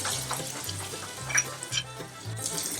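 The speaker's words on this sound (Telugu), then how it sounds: "ఇప్పుడు దీనిలో కొంచెం కొత్తిమీరని లైట్గా కట్ చేసుకొని వేసుకుంటున్నాను. వేసుకొని బాగా కలుపుకుంటున్నాను." Chopped coriander is stirred into a sizzling cooking mixture in a pan, with a steady spoon scraping and stirring rhythm over a constant frying hiss.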